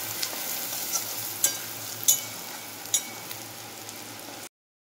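Red chili powder and turmeric powder frying in hot oil for a fish curry, a steady close sizzle with a few sharp stirring scrapes and clicks, then an abrupt cutoff.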